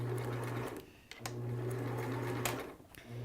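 A sewing machine stitching a seam on a doo-rag runs in short, close bursts of rapid whirring with brief pauses in between.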